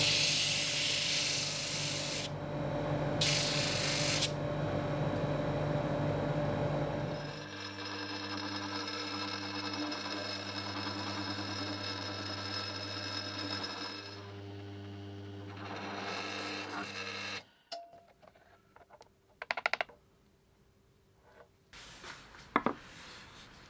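A steady whirring power tool runs at length, shifting pitch as it sands and drills a solid cured-resin 8 ball, then stops; brief scraping and tool noises follow.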